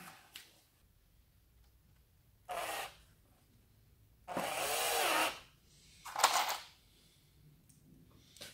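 A power screwdriver drives self-tapping screws into a drywall sample, giving three short separate whirring bursts with quiet pauses between them.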